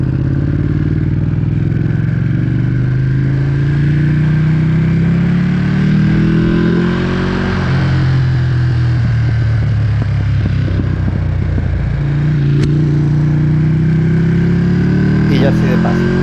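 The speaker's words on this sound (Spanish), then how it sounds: "vais escuchando el sonido del motor, el petardeo en las revoluciones" Ducati Panigale V2 motorcycle engine running steadily on a mountain ride to Andorra, revs rising and falling with a few sharp backfire pops near the end, loud and close throughout.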